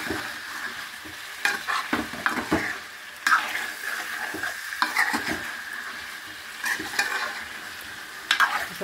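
Radish chicken curry fries in a pan after chilli powder goes in, a steady sizzle broken by repeated scraping stirs of a spoon against the pan, with no one talking.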